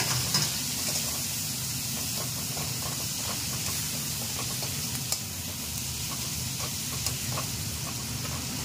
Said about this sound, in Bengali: পেঁয়াজটাকে একটু ভাজা করতে হবে।